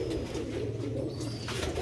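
Old-breed Sialkoti pigeons coo softly and steadily alongside quails, a faint low cooing murmur running continuously over a constant background hum.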